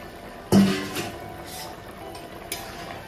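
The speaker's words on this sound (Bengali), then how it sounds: "এখন ঢাকনাটা তুলে নিচ্ছি।" A metal lid lifted off a cooking pot of simmering kulekhara greens and potatoes gives one sharp clink, followed by faint rattles and a softer clink a couple of seconds later against a quiet kitchen background.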